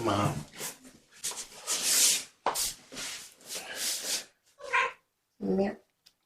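Kittens meow in a string of short, close, fairly loud cries with brief pauses, mixed with soft rustling and shuffling, ending in two clearer separate meows.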